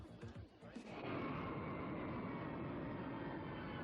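In a film soundtrack, a modern passenger jet roars in after a second of rumbling and holds as a broad, steady, fairly loud wash of engine noise to the end.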